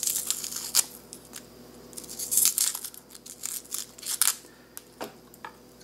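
Tough papery outer skin is torn and peeled from an onion up close, producing crisp crackling rips in several bursts with quiet pauses between.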